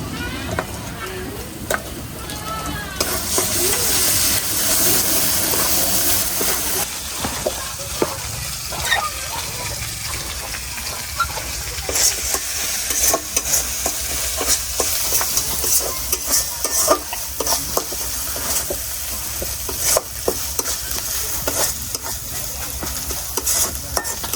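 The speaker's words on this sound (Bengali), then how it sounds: "আমার মাংস মশলাটা তো কষানো হয়ে গেছে" Onion, ginger-garlic paste and deshi chicken masala frying in a pan for a red chicken curry, a steady sizzle broken by repeated scraping stirs of a utensil, with someone talking now and then.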